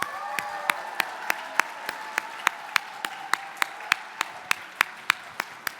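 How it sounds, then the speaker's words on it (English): Audience applause at a family event, with one loud, close pair of hands clapping in a steady, evenly spaced rhythm over a fainter background of clapping and crowd murmur. "another big round of applause"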